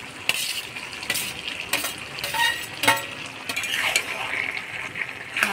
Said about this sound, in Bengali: এবার ভাজে রাখা চিংড়ি মাছগুলোও দিয়ে দেব।